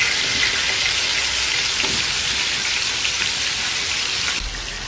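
Broccoli frying in hot oil, a steady dense sizzle and crackle like heavy rain, close and even throughout with no voices.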